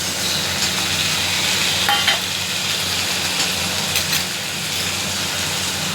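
Fish frying in hot oil with onion and garlic, seasoned with cumin and black cumin seeds, giving a steady close sizzle with light stirring scrapes throughout.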